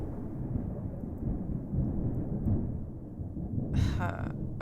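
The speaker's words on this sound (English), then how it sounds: "A loud sound roared as a flash covered the sky. Is that... lightning had struck somewhere." A low, rumbling roar of thunder from a lightning strike in the video game Mamiya, a continuous deep boom lasting several seconds with a brief brighter crackle near the end.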